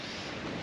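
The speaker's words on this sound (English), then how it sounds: "That wind is gusting quite strong now." Strong gusting wind buffets the microphone on the coast at Ogmore Deeps near high tide, a steady, loud, broadband rushing roar for under a second with no talk.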